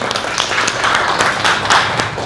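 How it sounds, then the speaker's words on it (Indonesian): A roomful of people at a teacher performance assessment breaks into brief, dense clapping, a loud, even burst of many hands close by with little else. "tepuk tangan."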